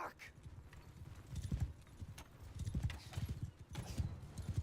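Horse hooves gallop in the Mount and Blade 2 video game, a rapid, steady clip-clop drumming that stays fairly faint, with soft thuds and an occasional whinny.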